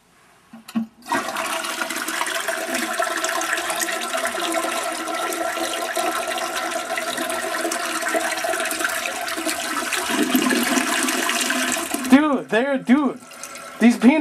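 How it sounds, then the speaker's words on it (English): A toilet flushes in one long, steady rushing surge of water lasting about eleven seconds, swelling slightly near the end, then stopping as a voice briefly speaks. "I just flushed it and they like float so good that they didn't go"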